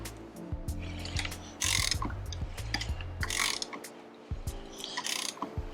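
A hand ratchet clicks in rapid bursts while a BMW 335i's N54 engine is turned over by the crankshaft during a head gasket install, close and crisp, with short pauses between pulls.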